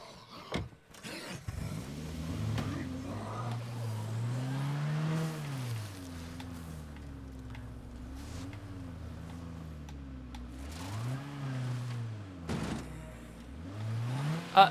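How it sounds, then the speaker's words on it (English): A car engine in the video game State of Decay 2, revving and shifting pitch as the vehicle pulls away and accelerates, steady and fairly close, with a few clicks and knocks near the start and no talk. "I think I can get in the car and drive off."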